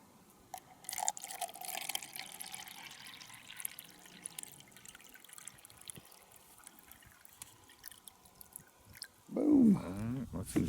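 Spring water poured outdoors, a brief close splash and gurgle of liquid near the end after a stretch of quiet ambient noise and light handling sounds.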